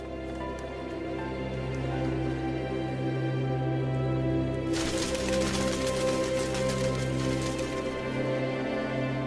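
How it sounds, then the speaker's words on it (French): Soft background music plays, then partway through a heavy savanna downpour suddenly starts, a dense hiss of torrential rain that continues to the end. "les premières gouttes d'eau se transforment vite en pluie torrentielle"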